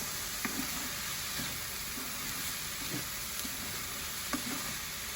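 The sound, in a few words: sautéing filling in a pan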